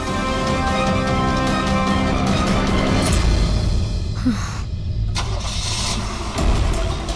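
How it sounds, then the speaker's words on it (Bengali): A car engine cranks and catches, then settles into a loud, close, steady idle that rises again near the end as the vehicle pulls away, with no talk. "স্যার মনে হচ্ছে খুনি গাড়ি নিয়ে পালিয়ে গেল।"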